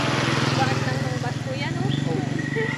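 A motorcycle engine idles and putters nearby with a steady low pulsing throb, running continuously under people talking on a night commute to a campsite.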